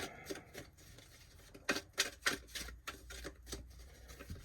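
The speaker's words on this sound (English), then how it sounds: "All right, one more shuffle here." Tarot cards being shuffled by hand, a faint close-up series of soft riffling flicks and taps in an uneven rhythm, with no talking.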